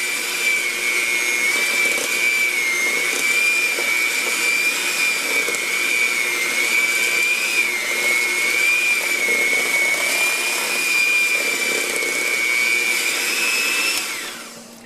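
An electric mixer beats powdered sugar into butter for a cake frosting, giving a steady, close, high-pitched whirring drone that holds for about fourteen seconds before winding down.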